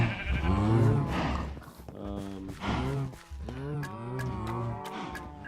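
Several Minecraft sheep bleat and baa in overlapping, wavering calls, close and fairly loud, one after another without pause.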